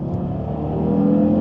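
Loud, steady engine roar from a 400 hp Audi TT RS Iconic Edition, rising slightly in strength as the car accelerates, heard alone.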